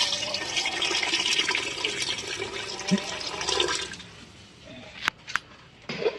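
Water pours steadily into a cooking pot, about two litres, for a few seconds while making chicken biryani, then stops, followed by a couple of sharp clinks.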